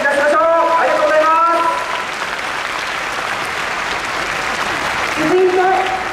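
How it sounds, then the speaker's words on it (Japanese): Sustained applause from the crowd at a large Tokyo rally marking six years since the Fukushima nuclear disaster, a dense steady wash of clapping, with voices speaking over it at the start and again near the end. "全体の拍手でお送り出しましょう"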